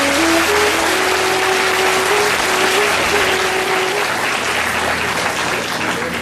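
A large audience at a Tamil talk bursts into sustained, loud applause, dense clapping from start to end with a faint whistle-like tone early on.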